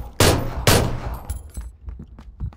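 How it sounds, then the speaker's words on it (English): Video game gunfire: two loud, sharp shots close together, followed by a scatter of quieter, more distant pops and cracks. "Is that him shooting at you?"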